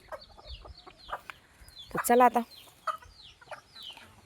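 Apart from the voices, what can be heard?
village chickens and roosters clucking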